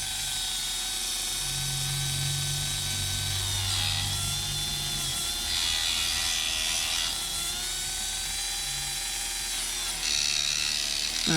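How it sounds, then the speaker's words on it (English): A Dremel rotary tool runs at its slowest speed, cutting a part during a Jaguar MKII reassembly. It gives a continuous close high whine with a faint low grinding, shifting slightly in pitch as it cuts. "what I've got this Dremel set on the slowest speed possible"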